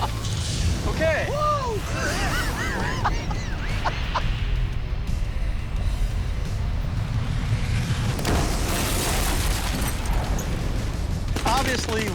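A burst of gunfire ignites a gunpowder trail and ammunition, a loud, dense rattle of shots and roaring flame filling the scene, with rushing whooshes and crackling bursts, while people talk over it.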